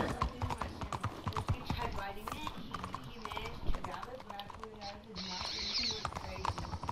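Rhythmic clip-clop of horse hooves trotting in a video game, steady and fairly close, with talking and other game sounds layered over it.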